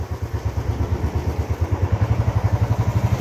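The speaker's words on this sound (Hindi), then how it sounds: "वहाँ तक जाने के लिए मैं बाइक पे जा रही हूँ" A motorcycle carries its rider on a trip around Mussoorie. Its engine thumps in a quick, even rhythm that grows stronger and steadier as it picks up pace, close and continuous, with no talk.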